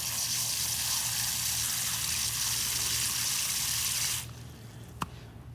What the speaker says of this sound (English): we'll go ahead and give them a good watering.